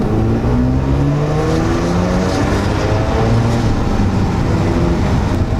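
Rotary engine of a 1990s Mazda RX-7 FD at speed, a loud, steady, buzzy drone heard from inside the car, holding a continuous high-revving tone throughout without pauses.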